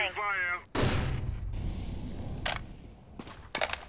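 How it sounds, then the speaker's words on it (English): A flashbang grenade thrown in the competitive shooter CS:GO: a sharp, loud burst after a voice, followed by a dense, ringing rumble, with further short clicks and bangs later on. "Throwing flashbang."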